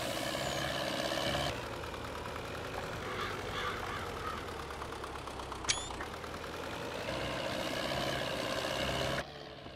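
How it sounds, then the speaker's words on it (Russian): A tractor with a front loader idles in Farming Simulator 22, a steady mechanical engine drone with a faint rhythmic knock, shifting slightly in tone twice and broken by a brief high squeak midway, with no talking. "правильно мы сделали, что взяли трактор с фронтальным погрузчиком"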